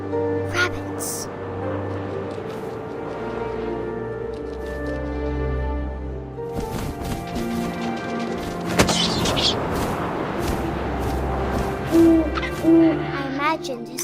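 An owl hoots in the video game What Remains of Edith Finch, sounding over a low hum of wind, with narration and tonal game music around it.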